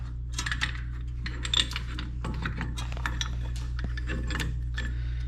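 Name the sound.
metal socket placed into brake caliper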